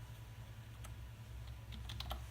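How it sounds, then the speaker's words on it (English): Someone types a name on a computer keyboard, soft scattered key clicks over a low steady hum, with a small burst of quicker taps near the end; quiet and close, no speech. "So you'll type in the name that you're looking for."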